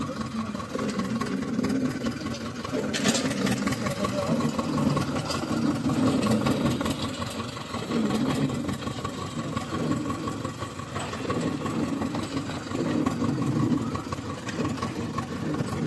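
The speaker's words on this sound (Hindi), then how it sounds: "और ट्रैक्टर को तीसरे गियर में डाल दिया है क्योंकि धीरे धीरे चलाना पड़ेगा।" An old Zetor 2011 tractor engine chugs steadily in third gear while moving slowly along a field path, a continuous mid-pitched rumble with a slight rhythmic pulse, moderately loud and with no talking.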